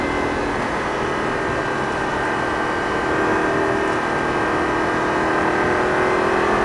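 A Lamborghini Gallardo LP 560 engine pulling hard on a race track, a loud, continuous mechanical roar with steady tonal drone and a slight swell as it accelerates, heard from inside the car without talk.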